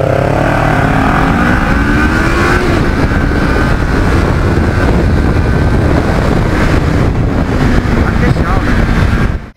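A Kawasaki Ninja 400 KRT motorcycle, a compact 399 cc engine, revs hard on a test ride, its rising engine note climbing under wind rush, loud and close, before cutting off abruptly at the end.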